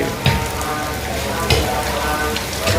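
Heavy, steady rain pours down in a loud broadband hiss, with a few louder splashes or knocks breaking through.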